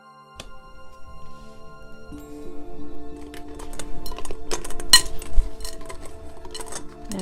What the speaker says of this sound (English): And mix up the tea leaf cards for Aries for love